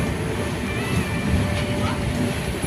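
The Kanchankanya Express with new LHB coaches pulls out of Dakshineswar station, a steady broadband rumble of wheels and carriage noise heard from inside, with a faint squeal of rails.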